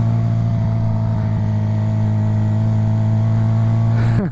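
A Suzuki GSX-R 750 fitted with a turbo-whistle exhaust insert produces a loud, steady, close exhaust drone that rises slightly in pitch at the very end.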